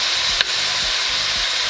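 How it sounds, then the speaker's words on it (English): Herby garlic shrimp sizzle loudly in a hot skillet with a close, dense, steady frying hiss, a small pop near the start and faint low rhythmic stirring scrapes underneath. "as soon as this herbaceous garlicky shrimp"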